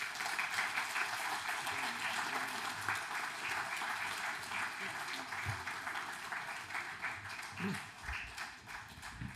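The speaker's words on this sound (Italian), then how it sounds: "dedicherei questo applauso ai nostri caduti di allora" An audience in Turin gives a sustained round of applause dedicated to fallen soldiers of the First World War. The clapping is dense and fairly distant, fades slightly toward the end, and faint voices can be heard underneath.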